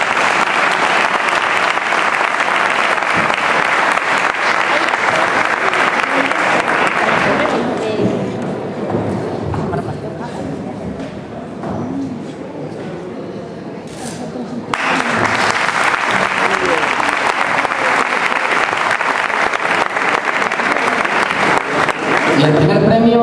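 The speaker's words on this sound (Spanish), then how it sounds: "Un aplauso." Sustained applause from an audience at a poster-prize ceremony for the Dos Torres fair, loud and continuous, dipping briefly in the middle before swelling again.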